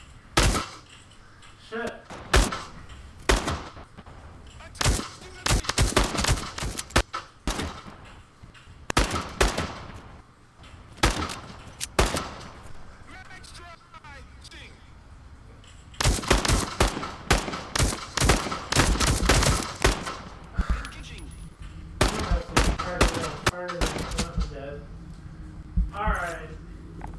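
Repeated bursts of gunfire in the VR game Into The Radius 2, loud sharp volleys and rapid automatic strings scattered throughout, with a player talking and swearing in between.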